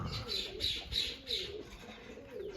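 Pigeons calling from a loft as they are let out, a repeated soft cooing in regular bursts with faint wing sounds, close and alone.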